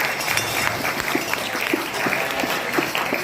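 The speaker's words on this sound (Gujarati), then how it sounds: "હા, ફરી એકવાર તાળી." A group of schoolgirls at a girls' school prayer and puja gathering clap for a classmate, a loud, continuous patter of many small hands with sharper individual claps standing out.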